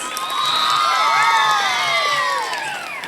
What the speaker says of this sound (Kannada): ಜೋರಾದ ಚಪ್ಪಾಳೆ ಫಾರ್ 7 ಸ್ಟೂಡೆಂಟ್ಸ್.